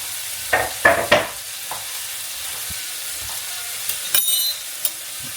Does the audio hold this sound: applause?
no